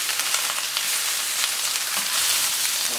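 Bell peppers and shiitake mushrooms sizzle steadily on a hot grill alongside Chinese cabbage for Japanese-style grilled beef, a dense, continuous crackling hiss with no talking.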